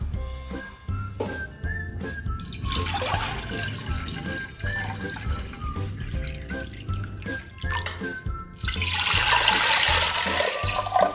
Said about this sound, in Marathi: आपल्याला हे तीन भांडी पाणी या कुकरमध्ये घालून घ्यायचं आहे